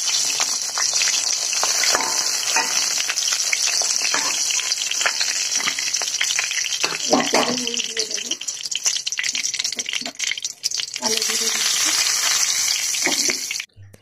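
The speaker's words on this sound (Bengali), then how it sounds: "মাছটা ভেজে দিচ্ছি" Fish frying in hot oil in a kadai for a spinach fish curry, a steady loud sizzle and hiss running nearly the whole time with faint clinks over it.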